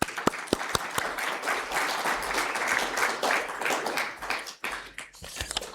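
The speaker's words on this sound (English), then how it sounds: "a big round of applause for her" Applause at a school district board meeting, starting with a few sharp individual claps that swell into a full round of clapping from the room, then thinning out to scattered claps at the end.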